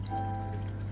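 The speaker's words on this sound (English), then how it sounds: "the fish seem to enjoy the water running back in" Water runs back into a 70-litre aquaponics fish tank, a steady close pouring trickle like a small waterfall, with a constant low pump hum underneath.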